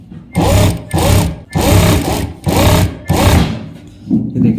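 A Juki sewing machine runs in short repeated bursts while stitching cloth, five loud close runs of mechanical whirring separated by brief pauses.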